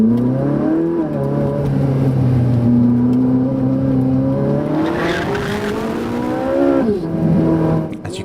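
A Ferrari 458 Italia pulls away on a damp surface with traction control off, its engine climbing loud and close through rising gear sweeps, with a tyre-squealing burst and a shift before revving on.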